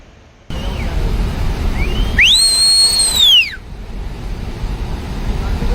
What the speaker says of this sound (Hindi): लोग चिल्लाने लगे, सीटियां बजाकर लोगों को अलर्ट करने लगे।